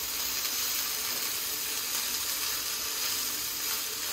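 Thin ivy gourd slices fry in coconut oil in a pan, giving a steady, even hiss of sizzling that holds at moderate loudness without pause and with no voices.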